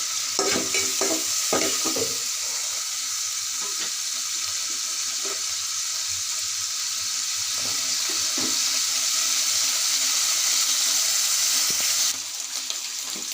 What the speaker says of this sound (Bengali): চিংড়ি মাছ যার যার পছন্দের মতো আমি একটু হালকা করে ভেজে নেব